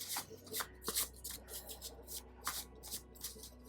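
Oracle cards being shuffled by hand in a quiet room, with repeated soft riffling bursts and light rubbing sounds, close and fairly faint.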